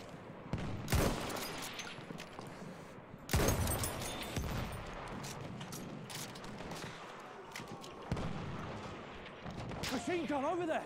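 Machine gun fire in Battlefield 1 crackles in scattered sharp bursts amid battlefield noise. Voices talk over parts of the firing.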